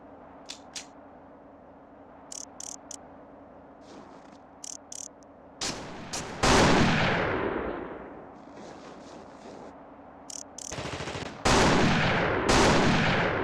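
Gunshots in The Thing Remastered ring out in scattered single shots and quick bursts, growing louder and denser toward the end, with long reverberant tails over a low game ambience.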